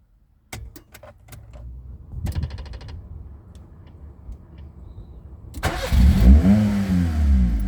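A modified Nissan K11 Micra with an aftermarket rev counter, its engine starting and idling after a few clicks, then revving loudly near the end.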